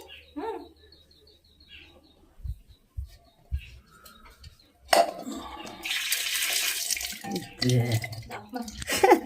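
Water splashing and gushing while a basin used for a caught fish is washed out, a loud sustained rush starting midway after quieter sounds, with people talking and birds calling nearby.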